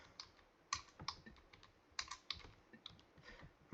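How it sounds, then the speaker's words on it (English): Slow, deliberate typing of code on a computer keyboard gives sparse individual key clicks and occasional louder strokes, close up in a quiet room. "I'm trying to type this pretty slow so I actually have my syntax formatted correctly"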